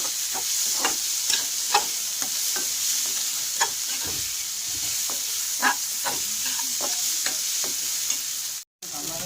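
Washed mung dal fries in a spiced pan, a steady bright sizzle with repeated scraping stirs of a spoon at an uneven pace, close and clear, with a brief dropout near the end.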